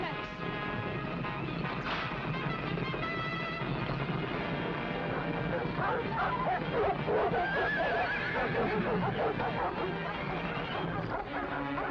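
Horses neighing and whinnying in a 1940 adventure film scene: loud, shrill, wavering calls rise over a dense, noisy background that runs throughout, with no clear speech.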